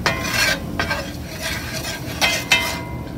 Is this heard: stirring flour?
yes